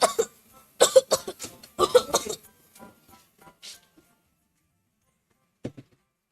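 A woman coughs a few times in quick bursts near the start, then a lone short cough follows after a quiet pause, demonstrating how to cough into a tissue or elbow.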